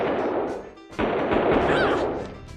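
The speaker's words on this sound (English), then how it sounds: "is it completely necessary for us to be shooting up this camp?" Loud gunfire fills a Mad Dog II video game scene, with dense bursts of shots, a brief gap, then sustained firing with layered noise.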